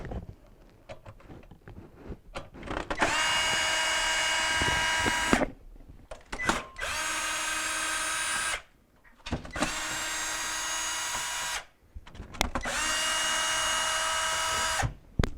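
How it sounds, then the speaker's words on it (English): A power drill removing screws from the heater assembly of a GE refrigerator's fresh food section runs in four sustained high whining bursts, close and loud, separated by brief pauses and small handling noises. "I'm going to remove the screws that are holding the heaters in place"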